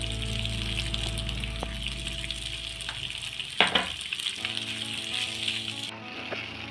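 Egg macaroni frying and being stirred in a pan, with a steady broadband sizzle throughout, a few sharp spatula scrapes and clinks against the pan, and the frying continuing close and loud with no talk.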